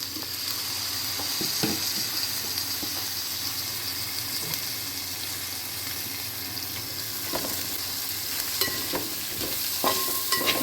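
Pork frying in a pan with three sliced onions and curry leaves sizzles steadily while a spoon stirs it, with scattered scraping clicks against the pan over the constant hiss.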